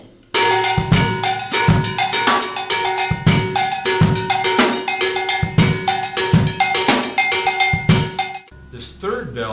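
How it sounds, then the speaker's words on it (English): Rhythmic percussion groove of hi-hat, snare drum and bass drum layered over ringing bells, steady beat with repeated strikes and sustained bell tones, loud and close, no talk. "you're hearing at least a hi-hat, snare drum, and bass drum within the context of the percussion and the bells"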